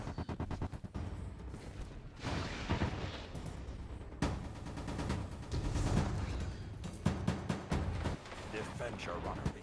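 Gunfire in the video game Destiny 2, dense rattling bursts and booming shots firing almost continuously, loud and layered with explosions, with brief gaps between volleys.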